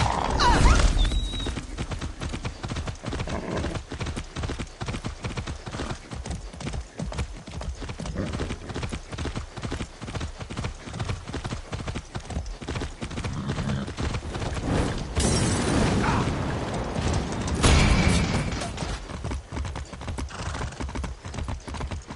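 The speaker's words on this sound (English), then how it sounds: "Be nice, horse." Horse hooves clip-clop in a fast, steady rhythm throughout a Far Cry 6 game scene, with a brief neigh near the start and occasional louder bursts of game sound effects.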